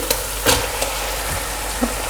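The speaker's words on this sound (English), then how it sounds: "And then I'm going to add the beef straight in." Beef pieces hit a hot pot with ginger and garlic for a one-pot curry and sizzle loudly and continuously, with a few sharp clatters and pops scattered through.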